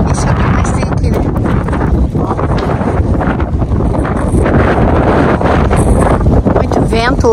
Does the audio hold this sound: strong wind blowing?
yes